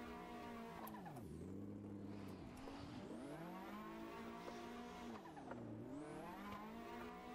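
Race cars drifting in Assetto Corsa, engines revving up and down in long swooping sweeps with tyres sliding, a continuous moderately loud tandem run with no talk.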